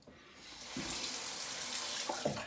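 Cold water runs steadily from a tap into a sink, a close, continuous hiss that swells after the first half second and carries a few brief splashy bursts near the end.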